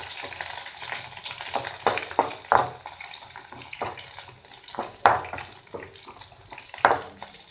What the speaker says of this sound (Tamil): கறிவேப்பிலை, வெங்காயம், நெக்ஸ்ட்டு மிளகாய் எல்லாத்தையும் ஆட் பண்ணிக்கலாம். ஆட் பண்ணி நல்லா வதக்கி விடுங்க.